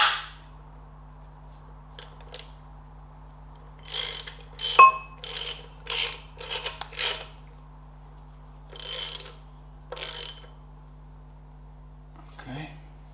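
A ratchet nipping up the flywheel bolts on a Ferguson TED20 tractor, bursts of quick clicking repeated several times in a quiet workshop with a low steady hum beneath.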